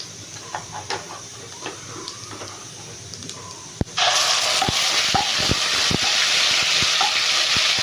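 Masala spices and cumin hit a hot pan for a potato and rajma curry; after a quieter start, a loud, steady frying sizzle suddenly takes over, with scattered clicks and pops beneath it.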